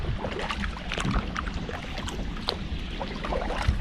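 A canoe or kayak paddle pushes through thick lake weed beds, with soft splashes and swishes repeating close by amid light wind, and no one talking.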